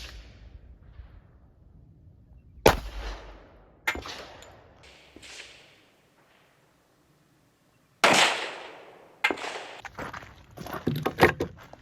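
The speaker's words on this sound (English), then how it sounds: "Okay, 45 ACP, Winchester full metal jacket." A .45 ACP pistol fires Winchester full metal jacket rounds at a shooting range, two sharp, loud reports about five seconds apart, each trailed by a ringing decay, with smaller clatters and handling noises between.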